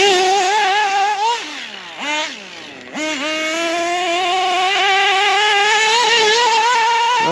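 A small high-revving nitro engine in a Hobao 10SC RC truck buzzes loudly, dipping in pitch a few times before settling into a steady, rising whine.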